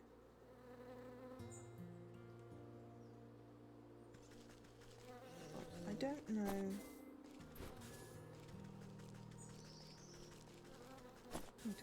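Bees from the video game Wytchwood buzz with a steady insect drone under game music and a voice talking, with a few louder sound-effect swells.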